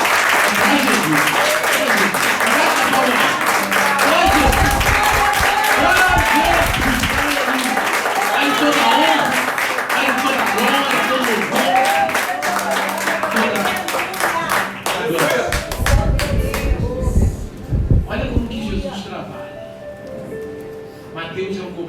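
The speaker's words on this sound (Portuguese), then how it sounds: "Se você puder dar a sua melhor salva de palmas." A church congregation at a Sunday family service claps loudly and steadily, the applause thinning toward the end as scattered claps and voices come through.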